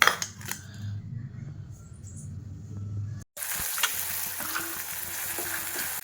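Onions and tomatoes fry in a pan with a steady, hissing sizzle. There is a brief dropout partway through, then the sizzle continues with no one talking.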